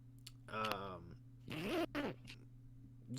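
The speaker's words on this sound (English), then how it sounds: "That was a loud zipper." A loud, close zipper rasps in two quick pulls, with a pause between them, against a quiet background hum.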